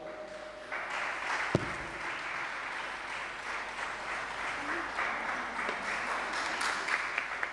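An audience at a religious gathering claps for a child singer, a steady, fairly distant patter of applause sustained throughout with a faint voice briefly at the start.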